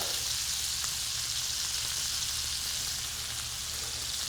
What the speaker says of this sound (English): So they're in the pan, they're sizzling.